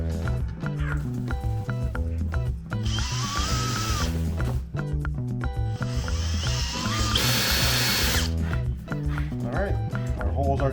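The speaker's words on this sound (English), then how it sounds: "put some holes in this with corresponding bolt" A power drill bores bolt holes into a fuel tank for a DIY diesel heater setup, with two distinct whining bursts of a few seconds each over steady background music.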